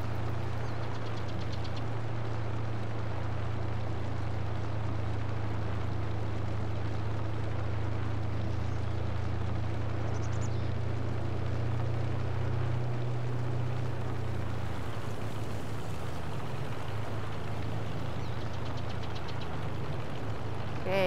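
A vehicle engine drones in Farming Simulator 22 while driving slowly across a bridge on the Green Valley map, a steady low rumbling hum that shifts in tone near the end.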